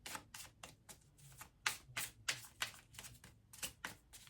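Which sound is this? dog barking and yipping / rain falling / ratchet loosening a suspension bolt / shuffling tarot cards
shuffling tarot cards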